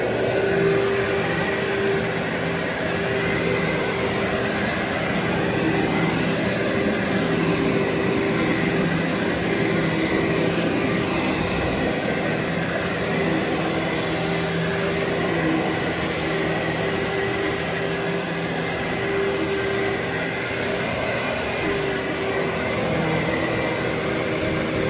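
A vacuum cleaner runs steadily on a badly soiled carpet, a loud constant motor drone with a whining hum and a rough airflow roar, no speech over it.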